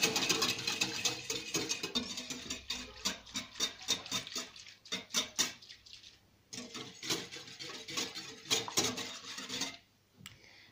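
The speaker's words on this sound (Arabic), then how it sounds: "غادي نخلط." A spoon stirs yeast, sugar and milk in a bowl, giving rapid clinking and scraping taps in quick irregular bursts, close and fairly quiet, pausing briefly before a final few strokes.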